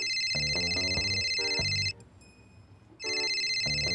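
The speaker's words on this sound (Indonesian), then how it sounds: "HP lu bunyi tuh." A mobile phone rings loudly in a room, a bright repeating ringtone melody that plays for about two seconds, stops briefly, then starts again.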